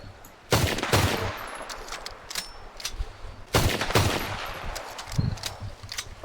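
Two loud bursts of rapid Luger P08 pistol fire in the video game Red Dead Redemption 2, a few seconds apart, each a quick rattle of sharp shots fading into a noisy background.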